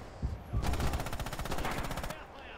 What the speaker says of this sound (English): Oh, he's shooting at me, and I just missed.